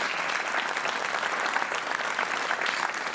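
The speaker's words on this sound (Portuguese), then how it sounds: "Um aplauso para a Sofia" Loud, steady audience applause for a contestant on the Portuguese TV quiz show Joker, a thick close wash of clapping that holds at one level throughout.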